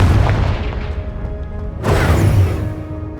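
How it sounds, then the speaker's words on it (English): The Confringo fire spell blasts in the video game Hogwarts Legacy, two heavy booming explosions about two seconds apart, each with a rumbling tail. "Confringo."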